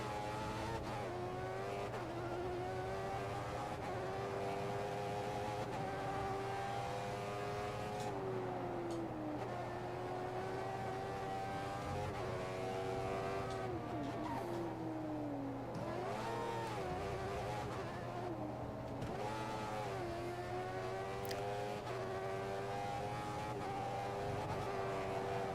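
Race cars from the video game F1 2014 scream around the track, a continuous high engine whine rising and falling through gear changes with a steady low drone underneath, with no talking.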